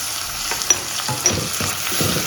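Onions and tomatoes sauté with salt in a pan, giving a constant close sizzle under repeated scraping stirs and a couple of sharp utensil taps, with no talking.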